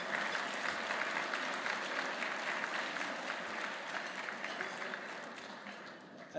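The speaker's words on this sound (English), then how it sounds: "let's all give a round of applause to all of our speakers so far in this conference today" Sustained applause from a sizable conference audience, steady and dense throughout, with no talking over it.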